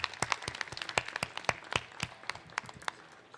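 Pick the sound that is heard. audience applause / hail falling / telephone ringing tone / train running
audience applause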